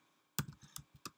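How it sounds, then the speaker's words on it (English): Keystrokes on a computer keyboard as a search term goes into a plugin search box, a quick irregular run of close, fairly quiet clicks after a brief silence. "we can find it simply by clicking in the Search Plugins box and typing EmbedPress"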